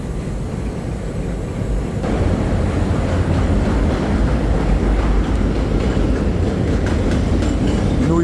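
A train rumbling past right next to a New York City train station, a loud, continuous low roar with steady rail noise that swells after the first two seconds and holds throughout.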